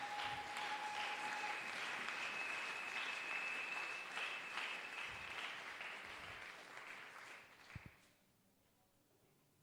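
A church congregation breaks into sustained, loud applause to glorify God during a sermon, then the clapping thins out and fades away near the end.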